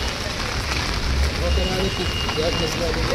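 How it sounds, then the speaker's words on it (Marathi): Heavy rain pours steadily over a crowded pilgrim gathering at Dehu, making a dense, even hiss with faint background activity underneath. "वरून पाऊस कोसळतय"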